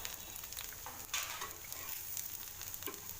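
Cabbage dosa batter sizzles and fries in oil on a hot pan, a steady close crackle with brief louder spits and faint stirring, no talk.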